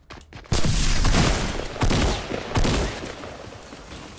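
Shotgun fire in Fortnite: three loud, close blasts with hard attacks, each trailing a short noisy decay, spaced roughly a second apart.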